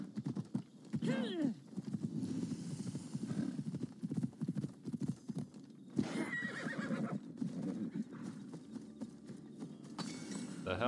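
An undead horse in Assassin's Creed Odyssey whinnies sharply, then again later, over steady clip-clop hooves and game ambience, with a person talking intermittently.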